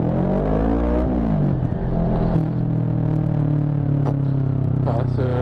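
A Kawasaki ER6N motorcycle engine runs in first gear with a loud, steady rumbling drone, dipping briefly before settling back to an even idle-like hum, with no speech over it.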